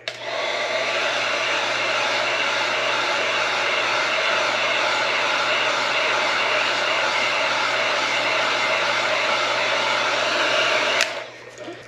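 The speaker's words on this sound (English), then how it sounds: "So I'm going to turn it on high and then quickly move back and forth around my tumbler." A heat gun set on high heats an alcohol ink tumbler with a loud, steady roaring blast that runs unbroken for about eleven seconds, then cuts off abruptly near the end.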